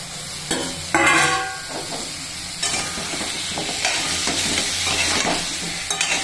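Pumpkin pieces sizzle in half-cooked spice masala in a pan, with a spoon scraping and stirring in irregular strokes over a steady close frying hiss, with no talking.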